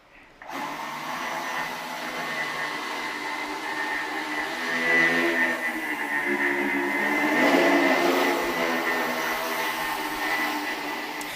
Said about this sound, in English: This machine over here is actually 2 separate 2-propeller flying machines.